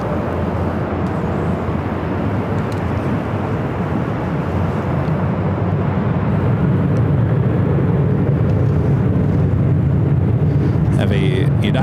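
Jet airliners, among them Air France and a Lufthansa Boeing 747, taxiing for north side takeoffs at Los Angeles International Airport, heard as a loud, steady, broad engine roar that fills the whole stretch.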